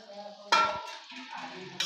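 A pan of chicken curry gets fried potato pieces stirred in: a sharp utensil scrape and clatter against the pan, followed by softer scraping stirs and a quiet simmering background, close and moderately loud.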